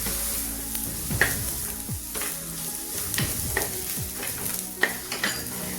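Coriander and turmeric powder sautéing in a pan, a steady close sizzle with repeated scraping strokes of a spoon stirring through it, no talking.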